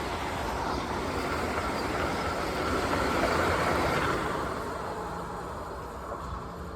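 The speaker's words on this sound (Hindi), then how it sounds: "Vande Bharat express full speed में, चेक करिए इसका स्पीड, देखो फुल स्पीड में आ रही है।" Vande Bharat Express passing at full speed, a broad steady roar of wheels and rushing air that swells near the middle and eases slightly as it moves off, with no talk.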